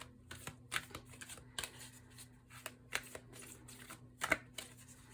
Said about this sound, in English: And I'm shuffling on camera today.